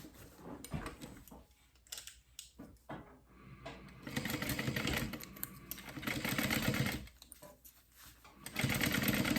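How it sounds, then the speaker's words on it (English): A sewing machine stitching fabric at a 1/4 inch seam for a fold-over clutch, running in several close, buzzing bursts with short pauses between them and no talking. "we line that up and we stitch at 1/4 inch"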